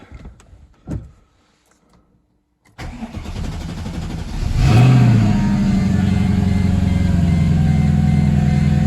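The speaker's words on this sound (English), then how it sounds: "fire the car up now" After a few quiet clicks, a car engine cranks and catches, roaring up briefly before settling into a steady, loud idle close by.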